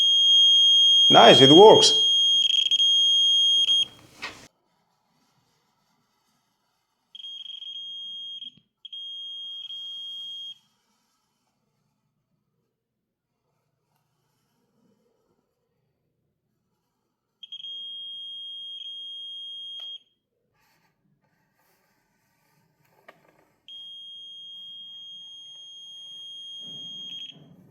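A Parkside PMME 5 A1 multifunction detector with laser rangefinder sounds steady high-pitched beeps in several intermittent bursts as it detects a live AC wire, after someone speaks briefly at the start.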